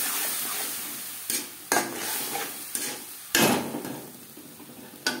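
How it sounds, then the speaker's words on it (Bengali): Tomato paste frying for an aloo chicken curry, a sizzling pan broken by several sharp stirring knocks and scrapes of a spoon against the pot, close and uneven. "এই পর্যায়ে দিয়ে দেব টমেটোর পেস্ট।"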